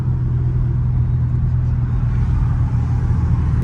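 A Dodge Scat Pack rolls under a bridge with a steady, loud, deep engine rumble that holds evenly throughout, heard from inside the car.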